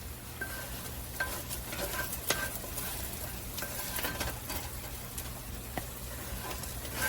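Cooked onions in a pan give a continuous, moderately close sizzle, with frequent sharp scraping and tapping from stirring utensils.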